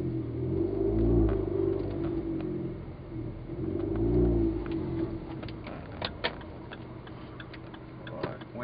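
A Corsa VXR with a new three-piece exhaust drives along, its engine rising and falling through two revving pulls, then a steady rumble with ticking and clicking mechanical sounds from inside the cabin.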